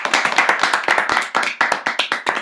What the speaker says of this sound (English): Can we have a quick round of applause?